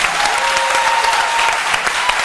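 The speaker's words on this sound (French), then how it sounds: "Allez, merci beaucoup. On l'applaudit très fort." A TV studio audience on a French-language talk show claps loudly and densely, a continuous close burst of applause that runs through the whole short clip.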